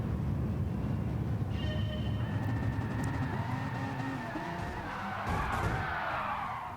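A race car in a racing video game skids and spins out, with a continuous loud engine roar and rising, smeared tire squeal throughout.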